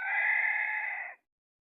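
A single crow from a wild junglefowl (labuyo) rooster in a forest, one sustained call lasting about a second, clear and fairly close, ending abruptly with no talking.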